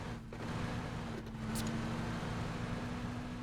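A car engine in PUBG runs with a steady, low, moderately loud hum and rumble that holds an even drone throughout.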